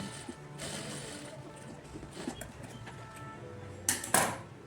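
Sewing machine stitching the shoulder seam of a katori blouse, a quiet close mechanical whir with light clicks and a couple of sharper knocks near the end.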